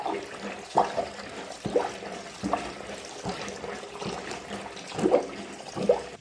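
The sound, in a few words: sink draining after plunging with overflow closed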